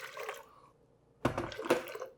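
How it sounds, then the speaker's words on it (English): Hot water pours into a blender already holding chicken broth, a short liquid splash and gurgle after a quieter opening, close and fairly soft. "And then I like to top it off with 1 to 2 cups of hot water."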